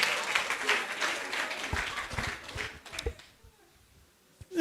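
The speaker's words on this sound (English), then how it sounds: "Please, a round of applause for yourselves." Conference audience at a keynote applauding themselves: a full round of clapping for about three seconds that thins into a few scattered claps and near silence, ending with a sudden voice.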